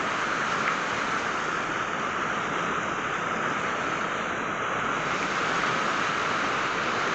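Fast-flowing water released from a dam rushes past in a steady, loud, broadband roar. It holds constant throughout with no pauses or voices.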